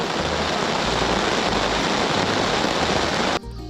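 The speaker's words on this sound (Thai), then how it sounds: "ฝนตก ตกหนักมากฟังเสียง" Heavy rain pours steadily at a mountain campsite on Doi Pui, a dense, loud broadband hiss with no pauses that cuts off abruptly near the end, leaving quieter ambience.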